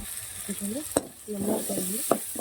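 Spices and four tomatoes fry in a pan for a kurumbu with small, warbling voice-like tones interrupting a soft sizzle and a couple of sharp clinks of a spoon against the pan, close and fairly quiet.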